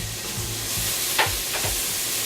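Garlic hits translucent onions in a sauté pan, giving a soft steady sizzle with a couple of brief stirring scrapes partway through.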